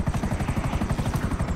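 Helicopter in GTA 5 with its rotor thumping in a fast, steady rhythm, loud and close, alone for under two seconds.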